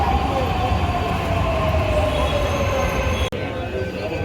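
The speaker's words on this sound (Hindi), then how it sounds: "मेट्रो पकड़ते हैं।" A metro train runs on its rails with a loud, continuous rumble and a high squealing whine from the wheels, then a brief sharp dip in the sound near the end.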